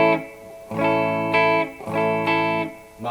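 Distorted electric guitar chords run through a long cable run and a chain of pedals with the buffer switched off sound dull and muddy, struck three times and left to ring, close and alone.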